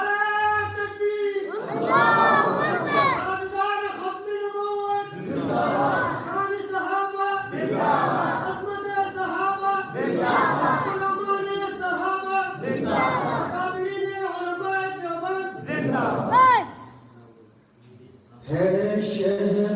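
A large crowd at a religious gathering loudly chants Subhan Allah together, several powerful swelling waves of many voices in call-and-response rhythm, each rising and fading before the next.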